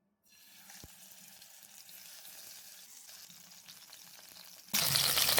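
Pieces of tailla fish dropped into a pan of hot oil for a bhuna, giving a steady sizzle and crackle that swells into a loud, bright burst of frying near the end, with no talking.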